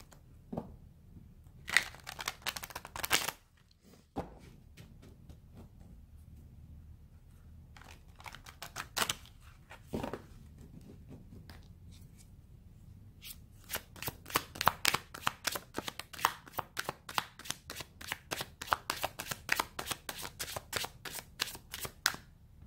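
A deck of tarot cards is shuffled close up, with early scattered riffles and taps followed by a long run of rapid, rhythmic card flicks, all fairly quiet with no talk.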